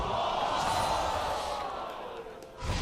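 Crowd in an esports arena at a League of Legends match between Team Liquid and Counter Logic Gaming, a loud sustained roar that dips briefly and swells again, with commentary voices mixed in.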